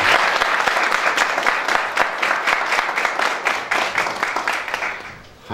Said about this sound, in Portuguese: peço uma salva de palmas a todos eles